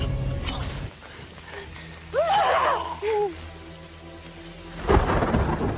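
A night thunderstorm with heavy rain: a loud thunder crack at the start, then rain hissing steadily while a brief gasp-like cry rises in the middle, and a second thunder burst near the end.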